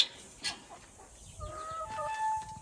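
Ispenci rooster and hens in a backyard garden, soft clucks and a short sharp call near the start, then higher drawn-out fowl calls, quiet and near with low background rustle.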